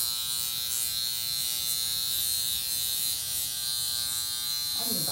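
A handheld high frequency skin care device gives a steady, close electric buzz with a bright humming tone that holds unchanged for the whole stretch, without pauses.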